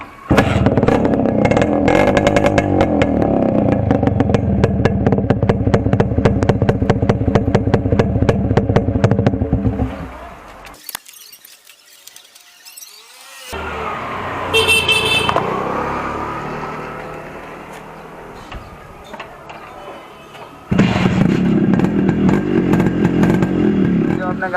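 A modified Yamaha RX100 motorcycle with its muffler cut runs loud and close. Its two-stroke engine rattles and revs roughly for about ten seconds, drops quiet, then comes back under some background sound before a final loud, steady idle.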